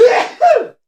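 One person lets out a loud, close sneeze with a sharp intake followed by a strong explosive burst, then silence.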